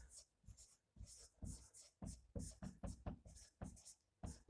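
A pen or marker writes out the solution to a complex-number equation: quick rhythmic strokes and taps, close and fairly quiet, in short bursts with brief pauses.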